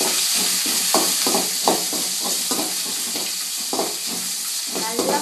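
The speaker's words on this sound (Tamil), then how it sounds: "பச்சை மிளகாய், கருவேப்பிலை நல்லா வதக்கணும்." Green chillies and curry leaves sautéing in a pan for tomato rice, a steady sizzle broken by regular stirring scrapes and clinks of a spoon against the pan, close and fairly loud.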